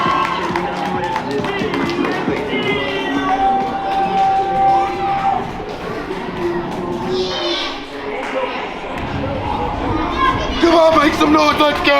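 Wrestling crowd in Richmond cheering and shouting with children's voices and scattered claps, a busy continuous roar with a commentator talking over it.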